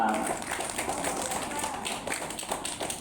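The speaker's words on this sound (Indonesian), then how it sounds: "Tepuk tangan untuk teman kita." Children clap together at an Isra Mi'raj commemoration gathering, a steady patter of small hands with a teacher's voice talking over it.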